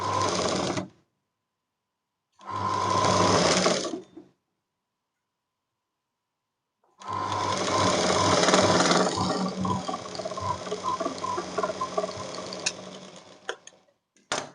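A sewing machine stitches a four-tuck blouse with piping in three separate runs, the first two short and the last long and steady, its rapid mechanical ticking clear and close with silent pauses between.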